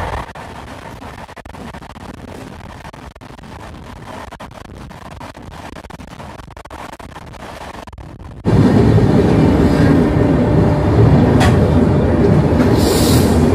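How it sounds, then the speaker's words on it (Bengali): The Sairang Express rolling into Malda station, a steady rumble of wheels and carriage that suddenly grows much louder and fuller partway through, close and continuous with no talking. "আমাদের ট্রেন এসে ঢুকলো মালদা স্টেশন।"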